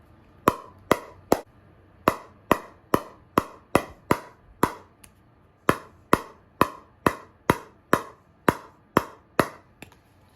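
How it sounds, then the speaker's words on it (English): Pickleball repeatedly struck against a Niupipo MX-33 paddle with a typical outdoor ball, about twenty sharp, close hollow taps in a steady bouncing rhythm with no talking. "I'm gonna go ahead and hit it with a ball. So here's a ball, typical outdoor ball."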